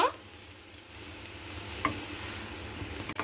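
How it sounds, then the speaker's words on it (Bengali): Egg-and-bread snack pieces sizzle in a pan with a soft, continuous hiss, broken by a few sharp clicks as they are turned and stirred. "এইগুলোকে আমি উল্টে পাল্টে খুব ভালো করে কিন্তু ভেজে নেব"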